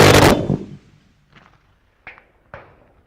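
One loud, sharp gunshot in a video game opens, then rings out and fades, followed by three much fainter, spaced thumps.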